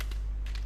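Keys on a computer keyboard get a few quick taps, a brief clatter of close keystrokes over a low steady hum.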